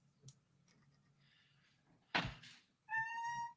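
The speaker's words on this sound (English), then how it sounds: "I hear a kitty cat." An indoor house cat lets out a single clear, drawn-out meow near the end, close by, following a sharp thump and a stretch of quiet room noise.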